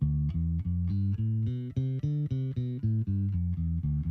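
A bass guitar plays a D Dorian scale, a stepwise run of single notes, low and close, moving up and back down at an even pace.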